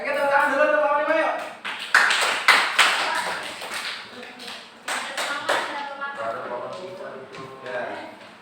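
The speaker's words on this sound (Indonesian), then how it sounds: "tepuk tangan dulu untuk kelompok 5 yuk." A classroom group of teachers gets a burst of scattered hand clapping in bursts, mixed with people talking throughout at moderate distance.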